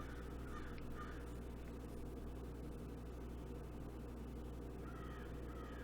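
Crows cawing in the distance, a few short harsh calls early and again near the end, faint over a steady low hum and background noise.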